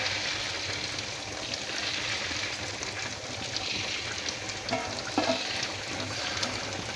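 Battered tofu sizzles steadily in hot oil, a dense, even crackle and hiss that holds at a moderate level throughout, with a few slightly louder pops near the end.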